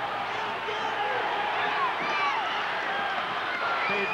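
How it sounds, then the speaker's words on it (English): Crowd at a 1984 Classical High School versus Putnam High School wrestling match, cheering and shouting in a steady, dense roar that fills the whole stretch, with whistle-like whoops rising above it. "Classical crowd will go nuts here."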